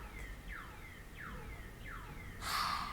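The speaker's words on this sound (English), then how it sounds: "I'm sorry for the alarm that's happening outside." A car alarm goes off outside, sounding repeated sweeping whoops at a steady rhythm, muffled and moderately distant, with a brighter louder burst at the end.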